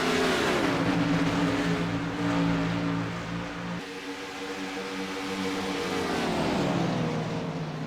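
Race cars roar past on a circuit, a loud sustained engine drone whose pitch sweeps as the cars approach and pass, dipping briefly mid-way before another car builds back in.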